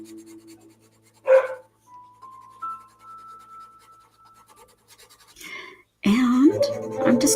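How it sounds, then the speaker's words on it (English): A puppy gives a sharp close bark, then a few more yips and scuffles later, in an otherwise quiet indoor room where someone is coloring with pencils. "puppy's going to be barking"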